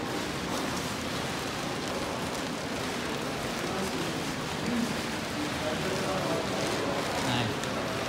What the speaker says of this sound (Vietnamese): Các bạn nghe tiếng giống như tiếng mưa đúng không? Nhưng mà không phải, đó là cái tiếng gỗ mà lâu năm á